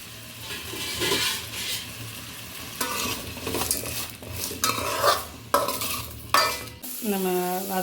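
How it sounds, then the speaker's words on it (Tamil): Vegetables sautéing in hot oil with salt for sambar, a crackling sizzle broken by repeated ladle scrapes and clanks against the pan, close and loud, ending in a brief ringing tone. "உப்பு போட்டு வதக்கலாம்."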